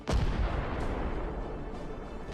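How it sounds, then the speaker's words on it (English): A heavy blast of an armored personnel carrier struck by an FPV drone, in a column of armored vehicles: a sudden loud boom that decays into a long rumbling roar. "A massive explosion."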